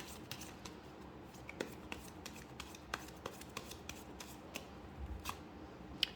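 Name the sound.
shuffling and drawing a tarot card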